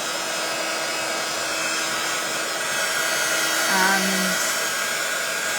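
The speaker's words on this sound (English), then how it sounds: "I am going to just whisk it really quickly with my heat tool." A heat tool blows hot air over a mixed media shadow tag craft project, a steady broadband whoosh with a faint whine, close and continuous, briefly under a single spoken word.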